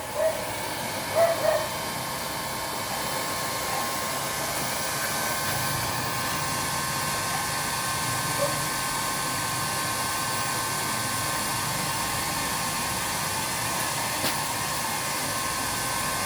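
A homemade stove burning used engine oil roars with a steady, hissing flame, continuous and close for the whole stretch, with a couple of faint knocks near the start.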